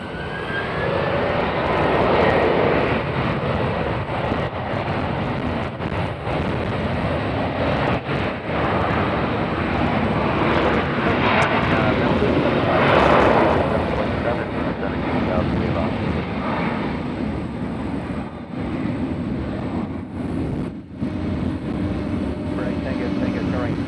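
A Spirit Airlines jet at Nashville International Airport produces a loud, sustained engine roar that rises and falls over many seconds, heard from a distance with outdoor ambience and people talking.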